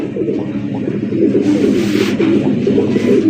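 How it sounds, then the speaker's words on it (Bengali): Bright red Basi Raj Koka pigeons coo continuously up close, a dense, low, rolling murmur of overlapping calls with a brief rise in hiss midway and no talking. "অরিজিনাল বাসি রাজ কোকা কবুতর"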